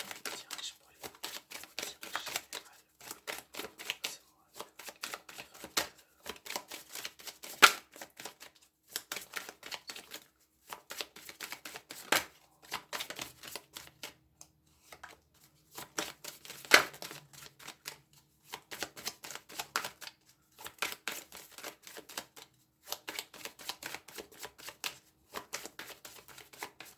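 Tarot cards being shuffled by hand during a reading, with rapid, close, crisp riffling bursts repeating steadily throughout.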